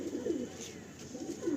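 Andhra pigeons in a breeding loft giving low, soft rumbling coos, faint and somewhat distant over a steady background hiss.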